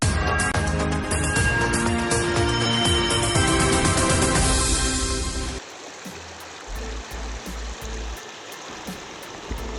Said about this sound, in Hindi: देवापुर घाट के पास नदी के उफान से सड़क पर लगभग 3 से 4 फीट पानी बह रहा है।